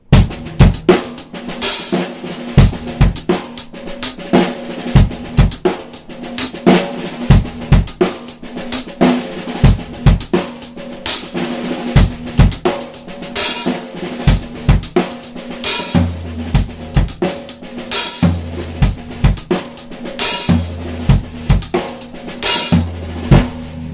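A drum kit plays a continuous flowing groove of single strokes spread across drums and cymbals, with regular kick hits, loud and close.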